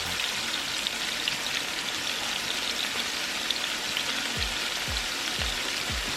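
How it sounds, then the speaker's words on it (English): Potatoes fry in a pan with a steady, soft sizzle and crackle, the hiss continuous throughout with a few low thumps near the end. "we're going to let these potatoes fry"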